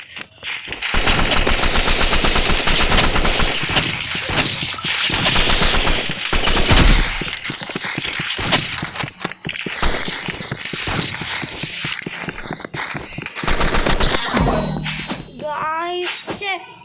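Shotgun fire in the Roblox game Rivals comes as loud bursts of rapid, repeated blasts. It comes and goes in clusters over the clip, with a voice talking over parts of it.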